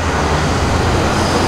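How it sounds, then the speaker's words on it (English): A vehicle engine rumbles steadily alongside road traffic noise, loud and close, with a continuous low drone and no speech. "He's got a nice engine in there."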